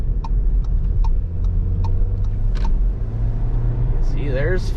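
A 2022 Volkswagen Taos 1.5T SE 4MOTION pulls up to highway speed on the road, with steady engine drone and tyre and wind noise heard from inside the cabin, a few faint clicks over it.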